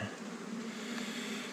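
Honey bees drone continuously at an opened hive on Réunion's Mafate, a dense, even buzz close by with no voices over it.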